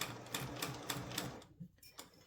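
A sewing machine stitches along a zipper edge in short, quiet bursts with a rapid mechanical patter, pausing briefly before starting up again.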